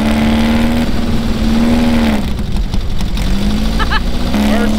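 A vehicle engine at the Glamis dunes revs with a steady droning tone that rises and dips as it pulls away, loud and close, with voices talking and calling over it.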